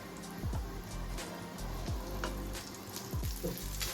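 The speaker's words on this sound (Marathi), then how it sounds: "पाहू शकता आता तुम्ही की मस्तपैकी फ्राय करायला ठेवलेला आहे" Bangda mackerel fish fries in a pan, producing a quiet, low sizzle with a few soft knocks and clatters, faint and without talk.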